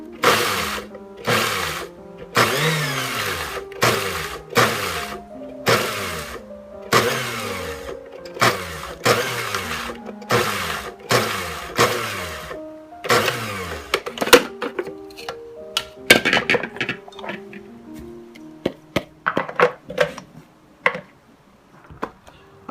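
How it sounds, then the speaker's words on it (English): Small food processor chopping parsley for tabouleh in repeated short pulses, each a loud motor whir with a falling pitch, about a dozen evenly spaced bursts and then quicker, shorter taps with clatter near the end; no speech. "I just have this little food processor because I love it."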